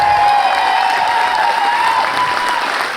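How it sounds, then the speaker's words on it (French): Steady, dense applause from an audience for dancers at a dance social event, loud and continuous throughout with a faint tonal hum behind it. "On les applaudit bien fort."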